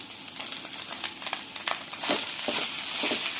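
Spinach sautéing in a pan for chicken chops, with a soft steady sizzle and scattered crackles and scraping stirs, close and moderately quiet with no talk.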